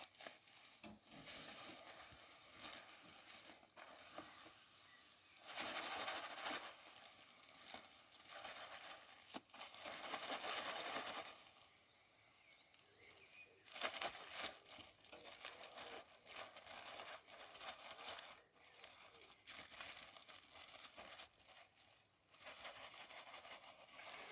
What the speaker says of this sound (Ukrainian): пакет можно розірвати